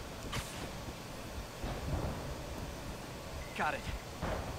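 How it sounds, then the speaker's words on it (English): A thunderstorm in the Spider-Man Remastered video game brings low thunder rumbles and crackling lightning strikes over steady rain-like noise, with someone talking over parts of it. "Oh yeah, that is some bad lightning."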